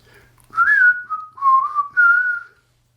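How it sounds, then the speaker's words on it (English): A person whistles a short, clear three-phrase tune up close while working on a resin craft project, with a quiet room behind it. "Just whistle while you work."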